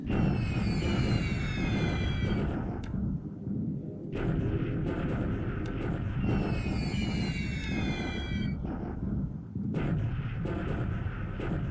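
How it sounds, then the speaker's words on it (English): Artillery bombardment in China in the War in the Pacific: AE wargame: a continuous rumbling barrage of blasts, with bursts of high whistling shells on top that cut in and out twice. "Now we are back in China with bombardment."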